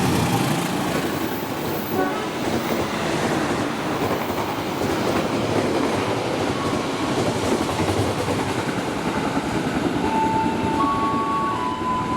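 Long Dharma Wangsa passenger train running at about 100 km per hour, a steady loud roar with rhythmic wheel clatter on the rails and a brief horn-like tone near the end, no voices.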